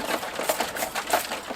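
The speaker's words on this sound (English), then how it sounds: "That's the sound of ice cubes" Ice cubes rattling inside a plastic spray bottle while misting a Dawn Redwood bonsai, a quick series of light clicking knocks in uneven rhythm, close and fairly faint.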